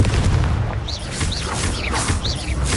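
A Confringo fire blast spell from Hogwarts Legacy bursts with loud, dense booming energy and crackling swishes, holding steady across the short stretch with no talk over it.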